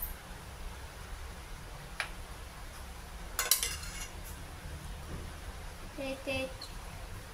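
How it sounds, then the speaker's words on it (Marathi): A spoon clinks and scrapes as stuffing is filled into shaped rice flour dough, with a sharp metallic burst midway and a couple of softer clicks near the end over quiet background hiss. "तर आता आपण यात चमच्याने आपलं सारण भरून घेऊया"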